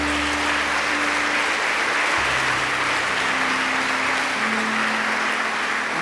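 A church congregation claps loudly and continuously in praise at a Spanish-language service, the clapping thick and even throughout with a faint low musical tone held underneath.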